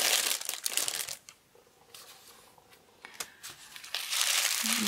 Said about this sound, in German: Und ich lege die Sachen, die ich gezählt habe, einfach wieder zurück in die Tüte.